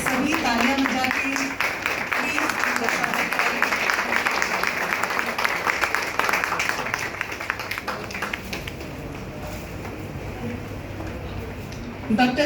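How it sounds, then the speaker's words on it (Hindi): An audience at a Hindi-language cultural evening claps steadily through much of the stretch while a voice talks over it, the applause slowly thinning toward the end. "सभी तालियां बजा के"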